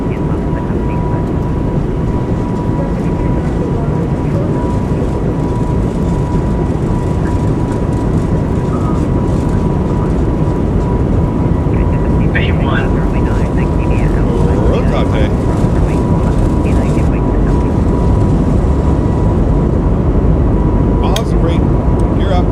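Airbus A220 jet rolling for takeoff in a flight simulator, a steady loud engine roar with a constant hum throughout, growing slightly louder as it accelerates.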